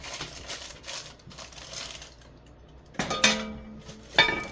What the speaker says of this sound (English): Put the lid on it. Put it back in the oven.